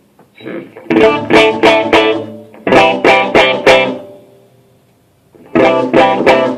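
Clean electric guitar through a Fender Deville amp with reverb: bright strummed chords and single notes ring out in loud bursts, with reverb tails carrying through the pauses between phrases.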